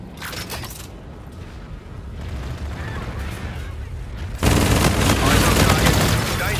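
Gunfire from Call of Duty: Infinite Warfare rattles in dense bursts, building into a loud continuous fusillade in the second half, with voices talking among the shots.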